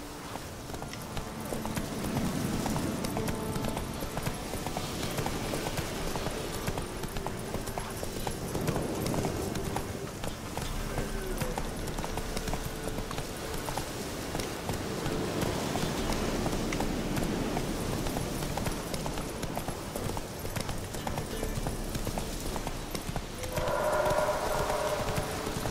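Horse hooves clip-clop steadily through most of the stretch in The Witcher 3: Wild Hunt, a continuous walking-to-trotting rhythm under game ambience, with a brief whistle-like tone near the end.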